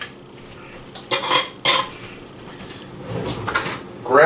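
Metal spoons rattle and clatter loudly close by as one is grabbed from a kitchen cutlery drawer, in a few sharp bursts of jangling with a softer scrape between.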